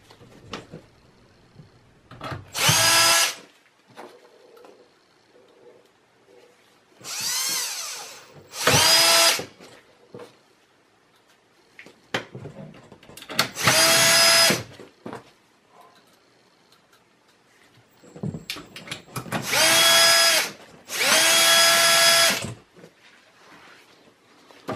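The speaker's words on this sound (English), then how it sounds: "Now I'm going to go ahead and install back the 4 screws." A power drill drives screws into a Dell Precision T1650 computer case in six loud, close whirring bursts of a few seconds each, separated by quiet gaps with faint handling.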